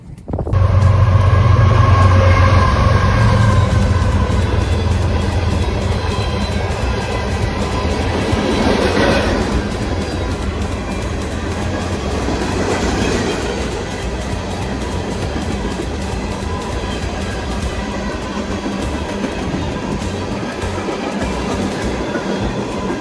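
A train passes on rails, starting with a loud close roar and rhythmic clickety-clack of wheels over joints, then easing into a steady rumbling drone that fades somewhat over the long stretch, with no voices.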